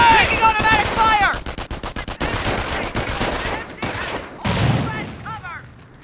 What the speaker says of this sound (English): Taking automatic fire!